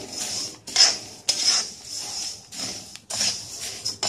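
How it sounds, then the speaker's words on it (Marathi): Coriander seeds dry-roasting in a pan over a slow flame, with repeated scraping and stirring scrapes of a utensil against the metal pan in short bursts, close and fairly quiet. "धने सुद्धा स्लो फ्लेमवर भाजून घ्यायचे आहेत."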